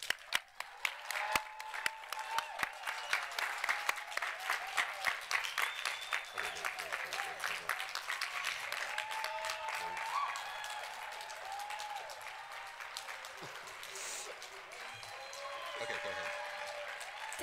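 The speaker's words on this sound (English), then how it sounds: "Let's give a round of applause to all our graduates." A crowd applauds graduates at a secondary school completion ceremony, starting with a few sharp separate claps that swell into steady, fairly quiet sustained clapping at a moderate distance.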